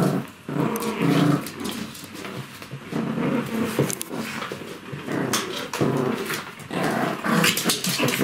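Several Spitz puppies growl and snarl continuously while playing tug of war, a busy close-up tangle of small rumbling growls with occasional yips, with no talk over them.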